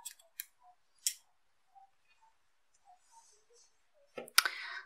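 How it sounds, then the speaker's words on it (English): Scissors snip red yarn during a crochet project, giving a few quiet, sharp clicks spaced apart with soft handling sounds between them and a louder snip near the end. "Cut the red color."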